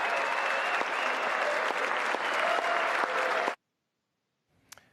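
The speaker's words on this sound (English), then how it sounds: "there were many Democrats clapping in the chamber" Lawmakers in the House chamber give a round of loud, sustained applause that stops abruptly, followed by near silence and a brief faint sound at the end.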